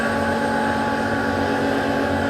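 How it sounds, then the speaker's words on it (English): Woodworking machinery droning in a guitar factory wood shop, a loud, steady, dense whir with a constant hum and no breaks. "People working with wood."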